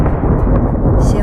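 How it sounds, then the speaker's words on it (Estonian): A summer thunderstorm gives a loud, close thunder rumble, a continuous deep roll with no voices over it. "See on äike."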